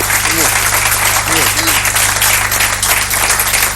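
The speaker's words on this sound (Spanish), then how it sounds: "te aplauden como un actor" A television sports-studio audience applauds steadily, a dense wash of clapping, while a voice speaks briefly underneath.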